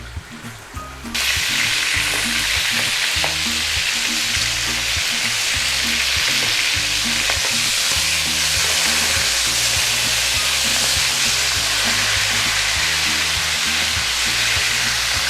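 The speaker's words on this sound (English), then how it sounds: "we need to get a really good sear on this meat. A nice crusty brown sear all over." Beef searing in a hot pan for stroganoff, a loud, dense, continuous sizzle that stays close and steady throughout after a quieter opening second, with no talking.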